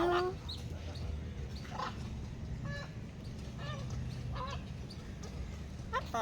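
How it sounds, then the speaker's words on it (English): Parrots kept at a hotel on a Maldives local island give repeated short squawking calls against a steady outdoor background of noise. "Anyway, parrots."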